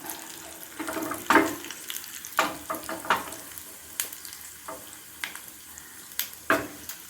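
Cumin seeds and two dried red chillies crackling in hot oil with mustard seeds, a steady sizzle broken by sharp pops and stirring scrapes at close range.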